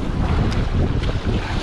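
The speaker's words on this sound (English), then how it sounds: "Wind is blowing, that sucks." Strong wind buffets the microphone at an ocean jetty during rock fishing, a loud continuous roar with low rumbling gusts and faint surf beneath, no talking.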